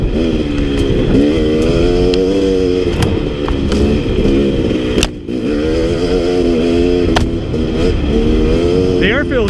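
A KTM 250 XC two-stroke dirt bike is ridden along a trail at dusk, its engine buzzing loudly up and down through repeated gear shifts. A rider talks over the engine.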